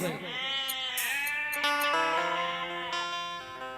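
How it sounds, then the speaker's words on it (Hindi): Goats bleat one after another in a long, wavering, echoing call that overlaps itself, loud and close, part of a sung folk narrative where a singer voices the bleating of five goats. "पांचों खसी मेमियावे"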